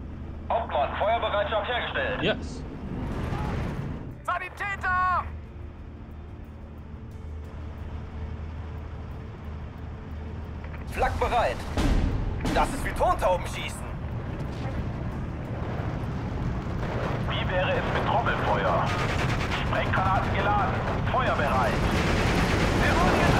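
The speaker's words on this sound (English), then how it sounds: "This fucking mortar spam" Mortar fire in the WWII strategy video game Steel Division 2, with loud booming impacts and blasts that come in bursts and sustained rumble while players talk over it.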